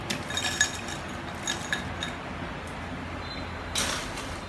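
Light clinks of ice against glass, a few sharp taps scattered over a quiet background, ending with a brief sliding rattle.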